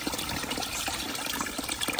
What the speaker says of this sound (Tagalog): kahit pinutol na nila yung puno, may tubig pa rin